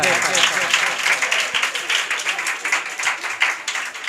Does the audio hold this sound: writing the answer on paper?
no